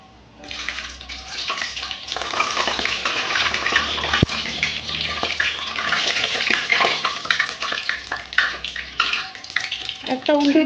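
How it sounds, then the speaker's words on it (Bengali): Date palm malpua sizzle and bubble in hot oil over a medium gas flame in a Bengali home kitchen, a continuous close crackling hiss with occasional clinks of utensils. "আস্তে আস্তে করে ভাজবো"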